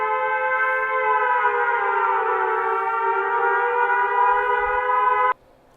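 An electronic siren alert sound played as a Lineage 2 bot notification: a loud, steady wailing tone with stacked harmonics that slowly waver, running about five seconds before cutting off abruptly.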